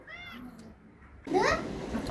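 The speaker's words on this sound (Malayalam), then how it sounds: "പിന്നെ ഈ വീട്ടിലൊരു പൂച്ചയുണ്ട്, ഞാൻ കാണിച്ചു തരാം" A cat meows loudly and close up, one drawn-out rising cry after a quieter stretch of faint household sounds.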